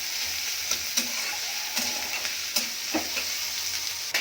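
Onions frying in a pan for Bengali khichuri, with a steady sizzle underneath and a few sharp taps and scrapes as a spoon stirs them at roughly regular intervals, close and fairly quiet, no speech.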